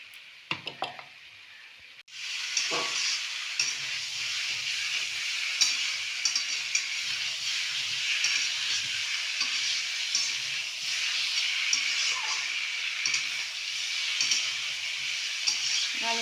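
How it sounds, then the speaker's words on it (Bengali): Potato and cauliflower are stirred in a hot pan for a bhetki fish curry, with a dense continuous sizzle and hiss. A few scattered taps come at the start before the frying swells and holds steady. "আরেকটু আলু কপিটাকে নাড়াচাড়া করে নেব"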